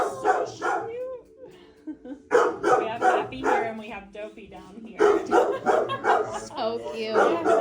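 Dogs at an animal shelter bark and yip repeatedly in loud, close bursts, with a whimper mixed in and people talking over the noise.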